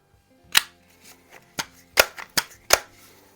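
An air gun pumped only a couple of times fires at a tin can, giving five or six sharp, close snaps spaced about half a second apart with quiet gaps between.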